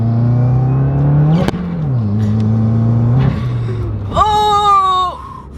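A 2015-or-later Subaru WRX turbo accelerates hard, heard loud and close from inside the car: engine drone climbs, drops through gear changes, then ends in a fluttering turbo chatter as the throttle lifts.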